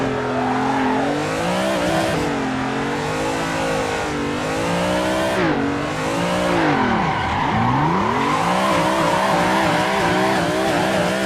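BMW M3 drifting in the racing game Assetto Corsa, its engine revving loudly with pitch sweeping up and down through a deep dip, while tyre squeal runs continuously beneath the engine note.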